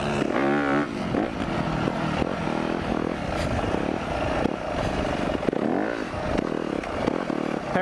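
A KTM 350 motorcycle rides past up close, its engine loud and steady with rising and falling revs as the rider accelerates, and a rumbling drone fills the whole stretch.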